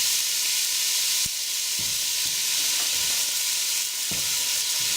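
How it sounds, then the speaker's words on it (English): Onions and celery frying in a heated heavy saucepan: a loud, continuous close-up sizzle and hiss, with a few soft stirring knocks and scrapes. "lightly fry the vegetables off before I add my meat"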